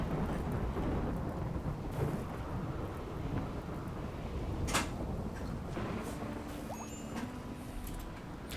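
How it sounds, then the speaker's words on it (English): Steady rain hisses continuously in the RimWorld video game, with low rumbling thunder rolling underneath and a sharp crack partway through, all at a fairly soft level. "Okay, it is raining again. It started raining again."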